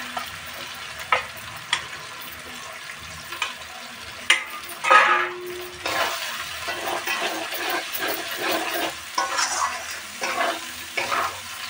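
Fried onions stirred into a sizzling spice masala in oil for chicken curry, with steady frying hiss and repeated scraping, clattering spoon strokes against the pan, close and fairly loud throughout.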